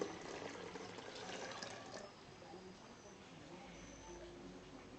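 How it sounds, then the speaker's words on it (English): Starfruit ginger drink poured into a pitcher, a steady faint liquid rush and gurgle that fades after a couple of seconds into a quieter trickle. "So then I just add it to my pitcher here."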